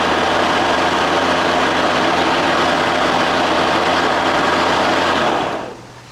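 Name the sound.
Kobalt KM 5224A-06 48V electric lawn mower starting and running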